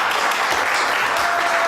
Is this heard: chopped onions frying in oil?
no